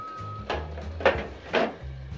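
A Blackstone air fryer basket drawer loaded with coconut shrimp, sliding and knocking shut: a few short sliding scrapes and thumps close by, spaced about half a second apart over a low background hum, with no talk.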